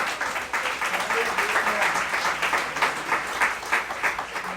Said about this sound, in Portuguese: Dê uma salva de palmas ao Deus.